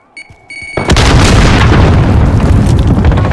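A grenade detonates in Call of Duty Modern Warfare during a Domination match, a loud, close blast that roars into a long, dense rumbling tail after a couple of faint clicks.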